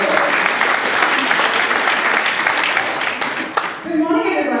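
A live audience applauds at a morning community crime and fraud prevention event, steady dense clapping filling the room at close range before it fades out, with a voice starting to speak at the very end.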